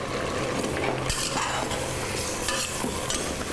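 Broccoli stirred in a hot frying pan, with a close, continuous sizzle and scraping utensil strokes against the pan over a few seconds.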